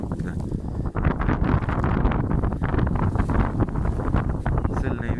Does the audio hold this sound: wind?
yes